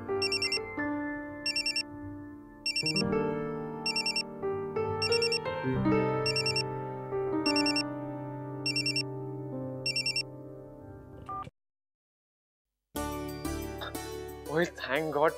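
A phone ringtone repeats in regular bursts for about eleven seconds with nobody answering, then cuts to silence before a voice starts talking.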